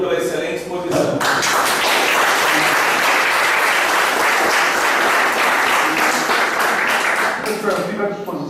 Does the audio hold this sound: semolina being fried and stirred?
no